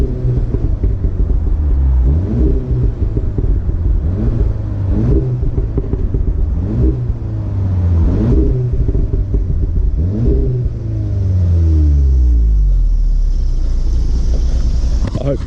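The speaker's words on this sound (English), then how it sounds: "So of course we've got to do the customary revs, so we'll give it a little bit of a rev." The engine of an Audi S3 8V facelift revs repeatedly, climbing and falling in pitch through several deep rumbling pulls, heard close with wind noise and a sustained rev toward the end.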